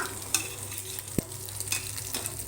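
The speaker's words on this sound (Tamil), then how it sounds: "இதை அப்படியே நம்ம ஒரு கிளறி விட்டுலாமா?" Dum biryani being stirred in a pot, a soft steady sizzle with occasional scraping clicks of the spoon against the pot, close and fairly quiet with no talking.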